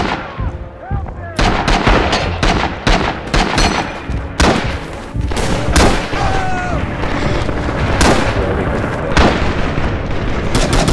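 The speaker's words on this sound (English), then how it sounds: "Naval salvo coming down now." Naval artillery salvo pounding down in the video game Rising Storm, a rapid barrage of loud, booming explosions and gunfire blasts, one after another, that fill the whole stretch with almost no pause.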